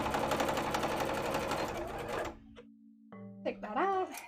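A sewing machine stitches a seam on a League of Legends cosplay costume in a loud, rapid burst that stops after about two seconds. A person talks afterward.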